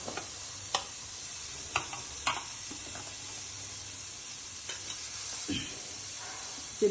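Onions and green chillies dry-frying without oil in an AMC 24 cm roaster, a steady close sizzle with occasional sharp ticks and scrapes of stirring.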